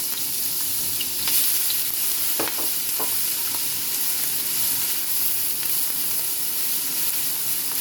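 Chopped garlic, ginger and green chillies frying in hot oil give a loud, steady, close sizzle with a constant hiss and a few faint stirring clicks, and no one speaks.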